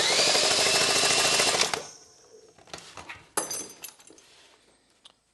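Cordless drill with a socket cranking over a small scooter engine, a loud whirring burst at first, then a sudden stop followed by scattered clanks and metallic rattles.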